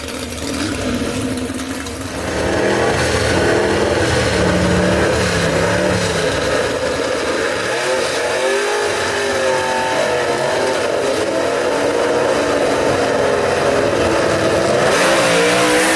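Gasser drag race cars launching at South Carolina Motorplex: a loud, sustained roar of engines revving hard and pulling away down the strip, rising in pitch and staying intense for the full run.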